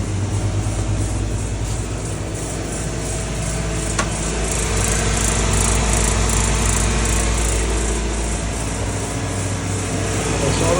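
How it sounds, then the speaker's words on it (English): Engine of a 1998 Honda CR-V running steadily at idle with a rattling exhaust, a loud, continuous buzzy drone heard close up with no talking. "I hear the exhaust rattling"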